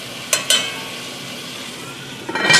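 Pork browns in a pot for pastalaya with a steady soft sizzle, broken by a few sharp utensil clinks near the start and a louder scrape and clatter at the end.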